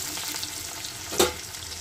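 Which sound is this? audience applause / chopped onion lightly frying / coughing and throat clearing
chopped onion lightly frying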